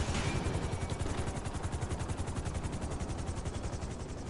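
A helicopter in GTA 5 Online chops at close range, its rotor beating in a fast, even pulse with a loud start that settles into a steady rhythm.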